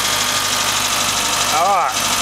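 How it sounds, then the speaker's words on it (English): Mitsubishi van engine idling steadily after starter repair work, a continuous even mechanical hum throughout, with a brief voice sound rising over it near the end. "The engine's really healthy."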